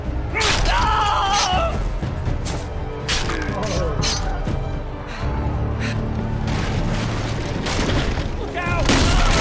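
Gunfire and booms in a Game of Thrones TellTale video game battle scene, loud repeated cracks and rumbling blasts under shouting voices throughout.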